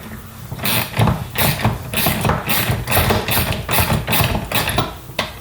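Ratcheting wrench tightening the Lock & Ride anchors on a Polaris RZR rear cargo box, a close, steady run of about a dozen evenly spaced rapid clicking strokes with no voices.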